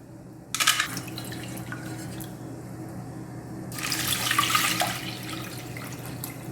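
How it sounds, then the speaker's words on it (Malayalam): Water splashing and running while sago pearls are washed in a home kitchen, two separate bursts of pouring and sloshing over a quiet background hum, close and moderate in level. "ഇനി ചവ്വരി കഴുകി വേവിക്കാൻ വയ്ക്കാം"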